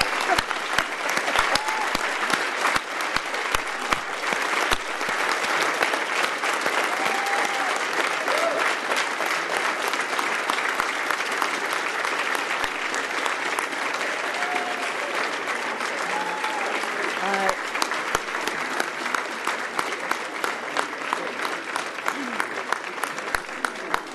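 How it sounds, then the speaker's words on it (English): An audience applauding at a climate declaration signing ceremony, sustained dense clapping from a large crowd that carries on steadily, close and loud, with no break for the whole stretch. "get a round of applause, please"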